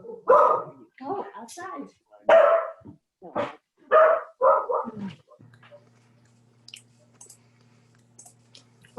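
Big and little dogs bark intermittently near a microphone during a county collaborative video meeting, sharp bursts mixed with a person talking over them.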